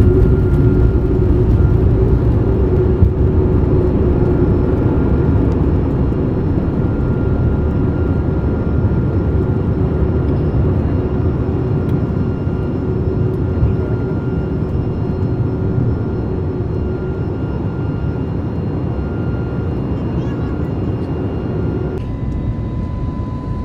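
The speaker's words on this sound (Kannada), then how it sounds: "ಫ್ಲೈಟ್ ಚಾಲೂ ಆಯಿತು." Airplane cabin during an international flight from India to Vietnam, a loud steady engine roar and whir that drones continuously without pause.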